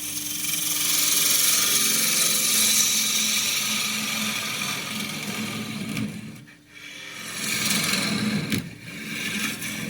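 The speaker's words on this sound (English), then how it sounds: "Half-inch spindle gouge this time." A half-inch spindle gouge cuts wood on a lathe while a tea box with a suction-fit lid is turned. A loud, steady, close rasping hiss runs throughout, broken by two brief pauses.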